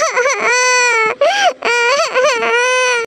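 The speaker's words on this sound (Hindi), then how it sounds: "टुनटुनी चिड़िया की रोने की आवाज सुनकर" A high, wavering crying wail with strong tonal harmonics rises and falls in sustained bursts, loud and close, broken by brief pauses.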